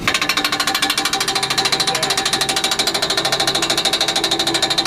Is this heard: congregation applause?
no